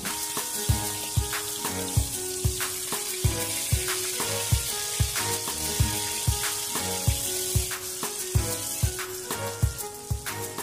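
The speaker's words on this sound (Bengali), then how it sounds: "রুই মাছের দুই পিটি লাল করে ভেজে নিয়েছি।" Rohu fish pieces frying in hot oil for a Bengali fish curry, a steady close sizzle with frequent sharp pops and spatters, no talking.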